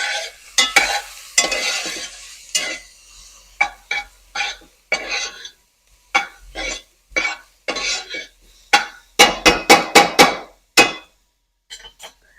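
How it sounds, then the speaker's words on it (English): Onions being stirred in a pan at home while dinner cooks, with a run of separate scraping and clattering strokes, sparse at first and then bunching into quick bursts near the end, each loud and close. "Now I'm going to stir in these onions."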